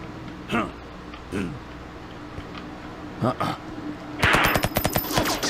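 Gun firing in the game Until We Die, a few spaced single shots followed by a rapid burst of repeated reports near the end, loud and close, with someone talking in between.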